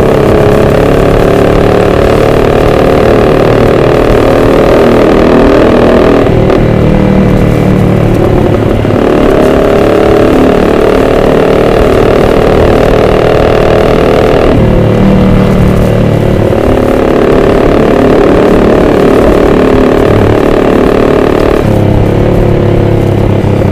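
A loud Kawasaki ZX-25R motorcycle engine revs repeatedly, the pitch rising and falling in long surges over a rough, continuous idle.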